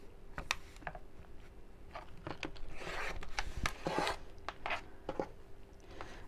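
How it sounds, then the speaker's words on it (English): Fabric being trimmed for a half hexagon cushion cover, with close, quiet, irregular cutting and rubbing scrapes and a few sharp snips scattered across the span, heard on their own. "Whoops, I'll trim that down again."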